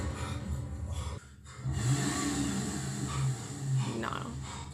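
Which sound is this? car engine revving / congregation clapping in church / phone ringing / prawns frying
car engine revving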